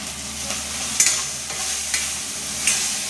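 Spices with turmeric fry and sizzle in a pan alongside tomato and onion, a steady close hiss broken by periodic scraping strokes of a spoon stirring, with no talking.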